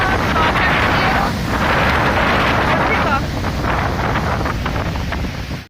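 Strong cyclone wind roars and buffets the microphone in loud, continuous gusts, with a faint voice under the noise.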